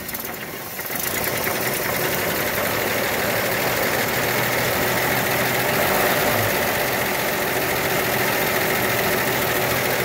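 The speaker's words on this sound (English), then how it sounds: "I'm trying to get it to idle." A 1929 Chevrolet engine idles close by, its steady mechanical drone and fast even knocking rhythm running continuously and loud, with no talk over it.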